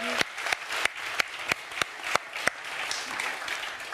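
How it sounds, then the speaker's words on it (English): Applause for a panel at an art and technology event. A few loud, evenly spaced nearby claps stand out over softer clapping from the crowd. "let's do a round of applause for our panelists."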